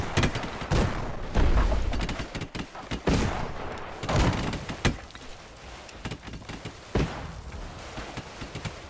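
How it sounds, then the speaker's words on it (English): Gunfire crackles in Airships: Conquer the Skies as troops assault across a high chain, a dense volley of sharp shots and booms in the first seconds, then scattered reports thinning out, with no voices. "They're shooting out with the crews."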